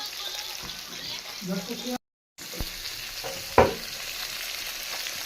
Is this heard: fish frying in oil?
yes